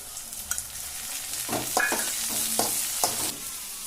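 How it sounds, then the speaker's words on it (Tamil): Tomatoes on sautéed onions fry quietly in a pan, a soft sizzle broken by several scraping, clinking stirs of a spatula. "வெங்காயம் வதக்கிட்டு தக்காளி போட்டாச்சு."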